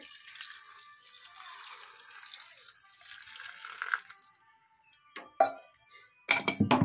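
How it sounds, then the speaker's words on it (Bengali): Water poured from a tap into a cooking pot with salt and turmeric, a soft steady trickling stream that stops, followed by a few sharp clinks and knocks of the pot. "দিয়ে দেব জল"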